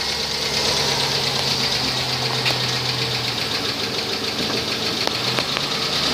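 A 2005 Chevrolet Avalanche with a bad engine and about 196,000 miles, idling steadily up close with a rapid metallic knocking tick over a low rumbling hum and a faint buzzing vibration.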